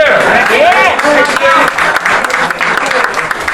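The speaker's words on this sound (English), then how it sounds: "Y'all clapping now" Loud, continuous applause and cheering from a large crowd, with whoops and shouts rising over the clapping throughout.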